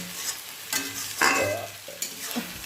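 Lentil fritters (bora) frying in a pan, with a short sizzling hiss broken by stirring and scraping knocks, fairly close and moderately loud, no voices present.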